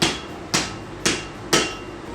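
Four evenly spaced hammer blows strike a steel knife billet being forged into a bar, each a sharp ringing clang that decays before the next, close and loud with no talking.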